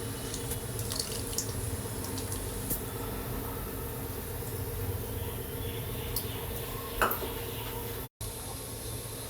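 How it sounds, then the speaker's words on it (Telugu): Water running steadily into a pot for tamarind rasam (pappu charu) in a kitchen, a continuous close splashing flow with a brief clink near the end. "ఇప్పుడు నీళ్లు పోసుకుందాం."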